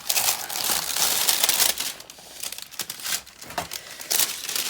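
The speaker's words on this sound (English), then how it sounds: "So there's actually a protective cover of plastic on this tube. I have cut that as well." Protective plastic cover on a tube for a diamond painting kit being cut open, with close crinkling and rustling plastic sounds in irregular bursts and no voices.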